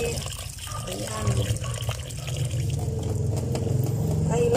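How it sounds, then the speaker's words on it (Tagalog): Running tap water splashes steadily over lean pork meat being washed in a sink, close and continuous, with someone talking over it. "Alisin yung ano niya, yung dugo niya. Hugasan siya ng mabuti."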